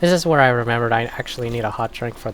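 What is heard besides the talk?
None of the usual background noises is heard.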